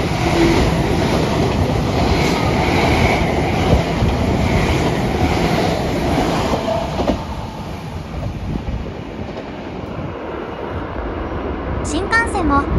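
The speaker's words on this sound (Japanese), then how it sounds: "名鉄線の特急が接近してきました。" A Meitetsu limited express train on the line section shared with the Iida Line near Toyohashi Station approaches and rumbles past loudly and steadily, then its roar fades away over several seconds.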